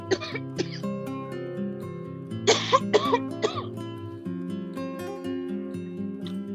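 A few short coughs near the middle during a webinar, under steady tonal background music, with quieter throat sounds around them.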